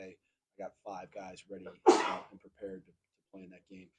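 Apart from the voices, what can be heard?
sneeze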